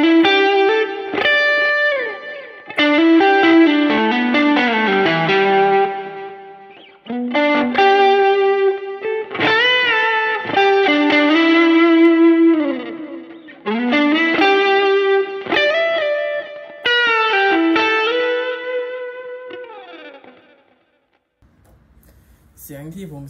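Distorted electric guitar through a Line 6 POD HD500X with a Klon-style boost and a screamer, playing lead phrases with sustained, bending notes and short pauses, close and clear before fading out at the end.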